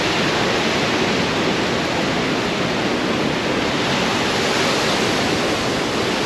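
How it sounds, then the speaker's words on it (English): A powerful waterfall on the Fraser River near Mount Robson, a constant, loud roaring rush of falling water filling the whole clip with no breaks and no voices. "Falls right there. Powerful water, powerful, the mighty Fraser River."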